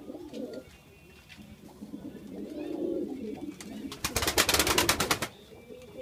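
Iraqi pigeons coo in soft repeated calls at close range, with a burst of fluttering wing noise near the end and faint background sounds around the birds.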